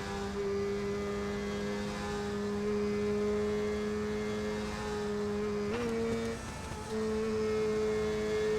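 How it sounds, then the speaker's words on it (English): A steady IndyCar engine drones in ToCA Race Driver 3, holding a constant pitch with little variation, then briefly shifts before resuming the same monotone hum, loud and alone. "The engine sounds more like it's just droning."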